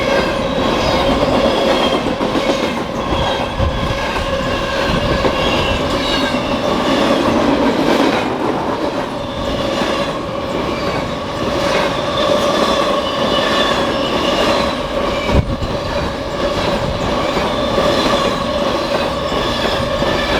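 A long BNSF freight train led by two ES44C4 locomotives and a C44-9W, with ES44AC and ES44DC mid-train units, rolls steadily past close by, wheels clacking and squealing with a continuous heavy rumble and metallic screeches, at La Plata, Missouri.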